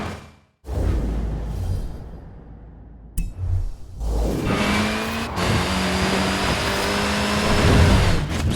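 A Mini in the racing game Forza Horizon 4 spins its small tyres while the engine revs hard, a loud, close roar that cuts out briefly, then returns with rising whining pitch and tyre squeal that builds to the end.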